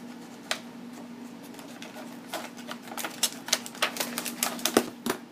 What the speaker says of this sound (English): now come through with my scissors and just cut it out